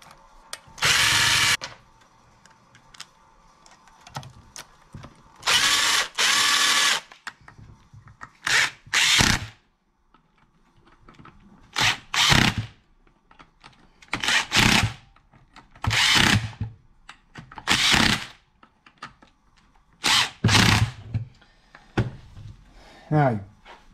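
A power drill drives screws in short repeated bursts during assembly of a Yamaha Banshee 4mil motor, each whir lasting a second or two with quiet gaps between, close and loud.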